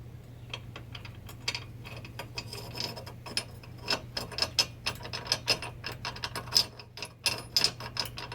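Rapid ratcheting clicks as a bolt is tightened on a Reese trailer hitch receiver being reinstalled on a Jeep, an uneven run of close metallic ticks over a low steady hum, with no talk.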